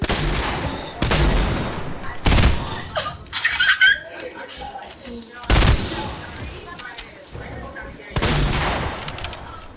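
Loud, widely spaced single shots from a bolt-action sniper rifle in a video game, about five booming reports with pauses between, with someone talking and laughing in the gaps.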